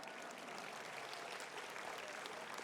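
Faint, steady crowd applause fills a rally audience at the Fête de la Violette in Sologne, a dense wash of clapping that holds evenly from start to finish without any voices over it.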